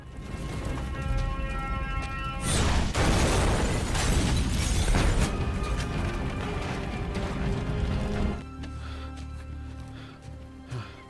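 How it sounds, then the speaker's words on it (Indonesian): A house blows up from a damaged gas pipe in a film scene: a loud roaring blast with crackling debris that rumbles on for several seconds before settling into a lower, tonal background. "ia meledakkan rumah dengan merusak pipa gas di dalamnya"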